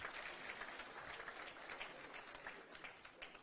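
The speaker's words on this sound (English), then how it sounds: "A hand of applause." Audience applause at a political ceremony with the president and a former premier, a continuous patter of many hands, faint and distant-sounding throughout.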